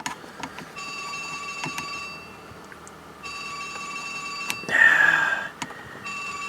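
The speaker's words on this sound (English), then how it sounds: "Every time I'm doing something, the cell phone's got to ring." A cell phone rings with repeated electronic tones at a workbench during soldering repair of a Zenith 6D-525 radio, swelling into a louder burst partway through before settling back into the ringing.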